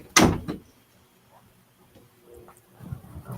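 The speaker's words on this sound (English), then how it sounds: "Sorry, I had to close my door." A household door swings shut with one sharp, loud thud and a quick rattle of the latch, followed by quiet room tone and faint low rustling.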